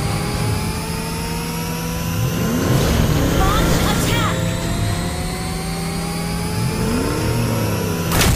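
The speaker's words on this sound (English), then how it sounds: "Hold tight! I'm stepping on the gas!" Johnson's car engine in Mobile Legends revs and drones continuously at mid pitch, rising and falling with acceleration, loud and close, with game effects layered over it.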